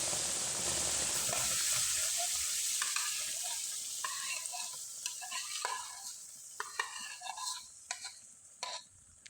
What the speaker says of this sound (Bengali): এবার ডালের পেস্টটা আমি কড়াইয়ে দিয়ে দিলাম